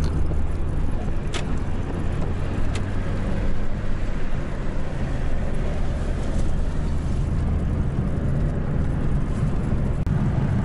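A VW Golf 2, lowered on a sport suspension, driving along: a steady, close engine and road drone with rumbling low end runs throughout, with no speech.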